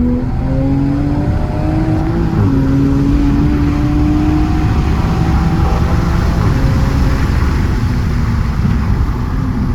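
A stock Toyota Supra launches hard from a roll, its engine revving loud and close from inside the cabin, the pitch climbing in repeated sweeps through several gear shifts without pause.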